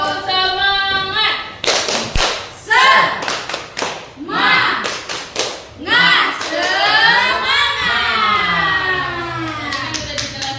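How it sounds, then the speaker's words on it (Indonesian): A group of women at a teachers' school gathering perform tepuk semangat, loud rhythmic patterned clapping in bursts of claps and pauses, mixed with chanted and sung voices. "Ayo, tepuk semangat."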